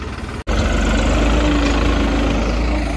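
A 1991 Eicher tractor engine idling up close, a steady low diesel chug with vibration that holds loud and even after a brief cut near the start, with no voices.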